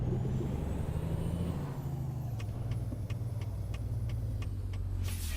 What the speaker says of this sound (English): And we got a car coming.